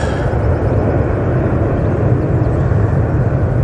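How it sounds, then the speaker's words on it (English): A KLM Embraer E190 jet arriving at Manchester Airport from Amsterdam makes a loud, continuous low rumbling roar, close and unbroken for the whole stretch. "It's the KLM Embraer. Going in from Amsterdam"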